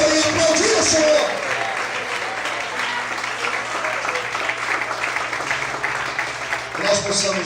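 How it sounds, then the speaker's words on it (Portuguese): Congregation in a church applauding steadily, a thick wash of clapping hands that runs throughout, while a voice speaks over it at the start and end. "Quantos podem aplaudir o Senhor?"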